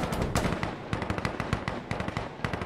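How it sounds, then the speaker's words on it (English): Rapid bursts of video game gunfire, dense popping shots mixed with small explosions, loud and continuous throughout with no talk. "Oh, they're shooting something."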